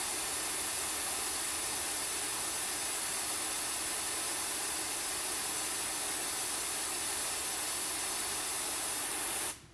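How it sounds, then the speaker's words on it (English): Compressed air blasting out the open end of a hard line onto a shop floor, a loud steady broadband hiss held for nearly ten seconds before cutting off abruptly at the end. "this is just blowing out the other end of that hard line right onto the shop floor"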